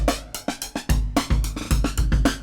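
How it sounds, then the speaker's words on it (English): A drum loop run through a sweeping flanger built from a Doepfer BBD modular delay, its hits taking on a hollow, comb-filtered whoosh that shifts as the effect moves. "you hear those sort of comb filtery, flangey sounds making themselves known"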